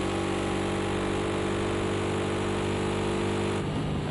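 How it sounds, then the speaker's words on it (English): Ginetta GT race car engine from Project CARS 2 running steady at high revs, a buzzing, mower-like drone with strong harmonics that holds constant, then shifts slightly near the end, loud and close with no talk. "As the famous Ginetta with the lawnmower engine. Can't stand the sound of this engine."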